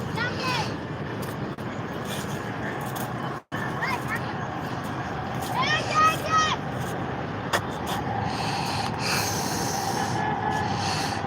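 A Bangladesh metro train on the Dhaka line near a Mirpur station rolls past a lakeside area in a continuous rumble with a brief squeal, while nearby voices carry on underneath.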